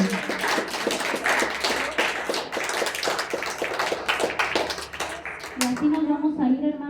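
Church congregation clapping in praise, a dense ongoing patter of many hands, mixed with loud speech and voices throughout.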